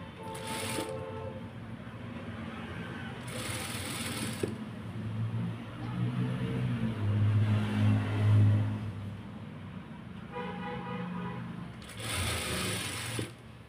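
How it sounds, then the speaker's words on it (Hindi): A sewing machine stitches lace onto trousers, its close, rapid mechanical whirr running in bursts that speed up and stop, with short pauses between runs. "ये लेस वाली सिलाई भी मैंने लगा ली है"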